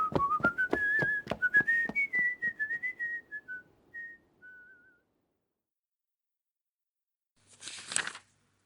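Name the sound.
man whistling, audio drama sound effect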